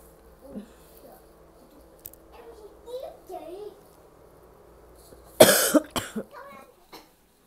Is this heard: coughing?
yes